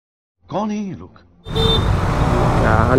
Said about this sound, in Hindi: यार, इतना ट्रैफिक।